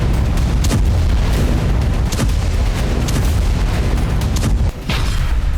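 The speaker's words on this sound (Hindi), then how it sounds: "राजधानी कीव में 7 जगह धमाके हुए।" Explosions from a night of missile and suicide drone strikes on Kyiv: a dense, continuous barrage of loud, rumbling booms and bursts, heavy and unbroken, with no voices.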